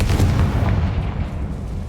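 The Confringo blast spell explodes in the Hogwarts Legacy video game, a loud, deep, rumbling boom that fills the moment and then slowly decays.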